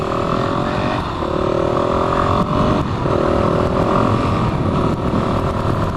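A motorcycle ridden at night downshifts while the rider stands on the pegs, a loud, close engine whose pitch steps down and dips through the gear changes.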